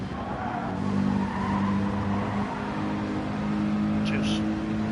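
A race car skids down Mount Panorama in a racing video game, a steady engine drone with tyre squeal layered in, while a commentator talks over it.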